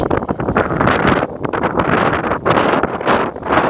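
Strong wind buffets the microphone in a continuous, loud roaring rumble with gusty surges and no voices, on a hiking trail near an aqueduct between Agua Dulce and Mojave.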